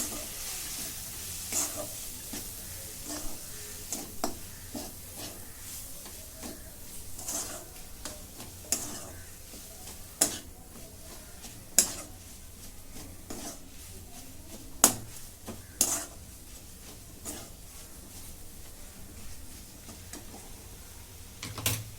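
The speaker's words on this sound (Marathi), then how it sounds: "आणि हा घरचा कांदा लसूण मसाला परतून घेते" Homemade onion-garlic masala sautéed in a pan for a capsicum (dhobli mirchi) bhaji: a steady low sizzle runs throughout while a utensil scrapes and taps the pan in irregular, close strokes.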